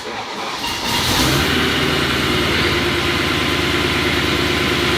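A rebuilt, previously crash-damaged BMW M3 engine fires up in the first second, then idles steadily and loud and close, with a smooth even rumble and no talk over it.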